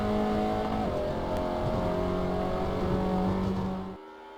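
Classic car engine in the Assetto Corsa racing game, a steady loud drone with shifting pitch as it revs and runs, cutting off abruptly near the end.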